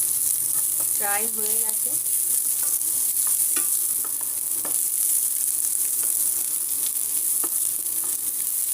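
Onions fry in a pan for a quick poppy-seed posto dish, making a loud, close, continuous sizzle with crackles while someone briefly speaks over it.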